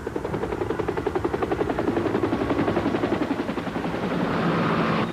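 A helicopter thuds nearby, its rotor blades chopping in a fast, even pulse that swells louder and then gives way to a smoother whine at the end; no voices.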